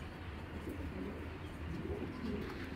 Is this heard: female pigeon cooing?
yes